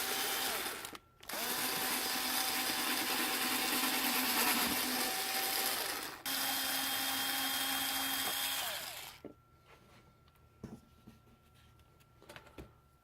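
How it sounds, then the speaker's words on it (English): A power drill bores a hole through a McDonald's plastic cup, running close and loud in two sustained whining bursts with a short pause between them, followed by quieter clicks and handling noises. "I take my McDonald's cup and I'm just going to drill a hole in it."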